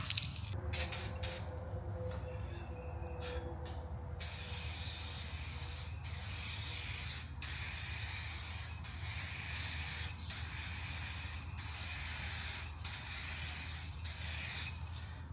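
A spray can lays a light wet coat in a steady, close hiss. A few short taps and bursts come first, then a long continuous spray runs with faint periodic breaks.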